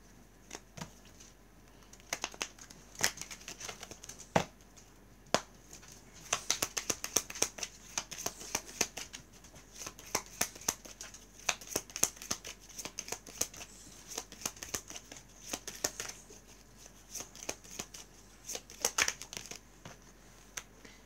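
Tarot cards riffled and slapped down during a reading, bursts of quick papery shuffling clicks and soft crinkles scattered through a quiet room, close and fairly faint.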